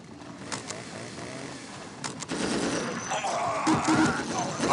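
Gunfire and battle noise in the strategy game Dawn of War: scattered sharp shots early, then a dense, continuous burst of automatic fire and explosions building toward the end, with unit voice lines mixed in.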